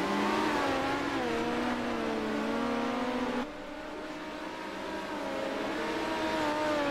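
Midget race cars circle an oval track during an ARDC feature race, a steady droning chorus of engines whose pitch rises and falls as the cars run together, continuous and moderately loud throughout.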